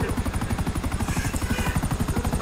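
A helicopter flies in GTA V Online with a loud, continuous rotor chop, a fast steady thudding over an engine drone and turbine whine, heard close by without clear talk.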